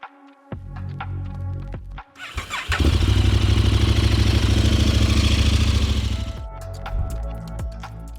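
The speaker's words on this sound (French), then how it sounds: "On va faire tourner un peu le moteur." A KTM motorcycle engine fires up after a brief crank and settles into a loud, steady throbbing run for several seconds before cutting back down, just after an oil and filter change.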